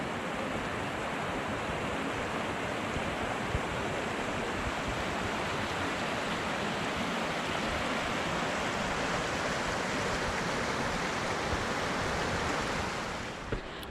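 Siklawa waterfall in the Tatra mountains roars as a dense, steady rush of falling water, loud and close, unbroken throughout before easing slightly at the very end.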